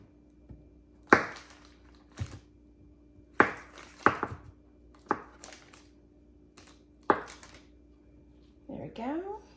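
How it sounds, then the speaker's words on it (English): Half a stick of butter cut into cubes on a cutting board, a knife striking the board in separate sharp chops with gaps between them, with a person talking in between. "we're gonna add about a half a stick of butter. We're just gonna cube it up."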